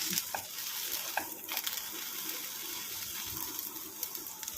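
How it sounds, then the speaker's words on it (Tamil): Flowers sautéing in ghee in a pan, a steady soft sizzle with scattered stirring scrapes and clicks throughout, close and moderately quiet. "இந்த மாதிரி ஆயிலில் அதாவது நெய்யில் வந்து இந்த மாதிரி நல்லா வதங்கணும்"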